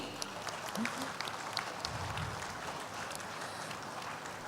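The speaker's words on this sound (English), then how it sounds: "A big round of applause for all the Nari Shakti." An audience at a diaspora session celebrating women's leadership gives a round of applause, heard as faint, distant, steady clapping in a large hall, with a low rumble partway through.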